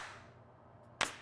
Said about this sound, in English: A clap.